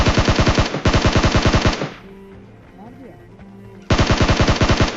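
Automatic gunfire in the mobile battle-royale game PUBG Mobile: two loud, rapid bursts of shots, one at the start and another near the end, separated by a short lull with faint scattered game sounds.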